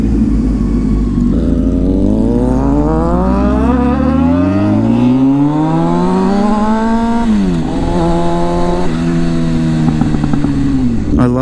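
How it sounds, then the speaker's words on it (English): Motorcycles rev loudly and close by, engine pitch sweeping up through several gear changes with a sharp drop and crackling pops of backfire near the end, continuous and without talk. "I love the backfire on the bikes."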